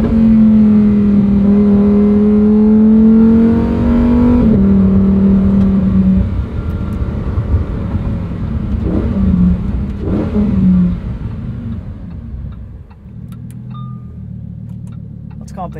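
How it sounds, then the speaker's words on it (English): A Lamborghini Huracan STO engine revs loudly in STO mode, its strong rising tone holding steady for several seconds before easing into a lower, rumbling idle. "Go back into STO mode. And listen to this just purr away."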